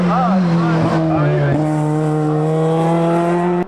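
A Peugeot 208 VTi race car at the Limonest hill climb holds a loud, sustained engine drone whose pitch wobbles, dips, then steadies, with spectators or commentators talking over it.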